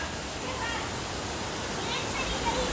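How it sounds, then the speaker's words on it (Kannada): Water at a temple spring flows in a constant soft rush, faint and steady, with a hint of distant voices. "ಇಲ್ಲಿ ನೀರು ಬರುತ್ತೆ ನೋಡಿ"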